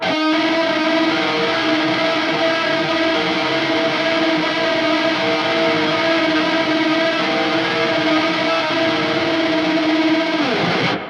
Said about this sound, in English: the other tone that I was using was more of like an ambient creepy tone,